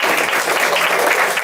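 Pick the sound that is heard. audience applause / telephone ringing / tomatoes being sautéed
audience applause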